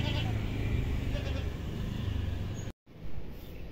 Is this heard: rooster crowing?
no